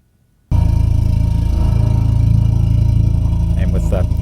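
Bowed strained-wire synth patch: a loud, sustained droning tone with a steady rasping, buzzing texture that starts abruptly after a brief silence and holds steady throughout, with faint higher squeaks near the end.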